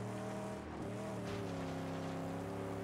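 Car engine in the Mad Max video game, a steady close revving drone with layered harmonic tones that stays loud and continuous, rising slightly in pitch partway through.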